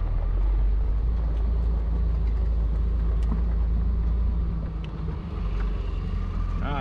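A Jeep engine rumbles continuously and close by, a steady low idle with a slight dip near the end, with little else heard over it.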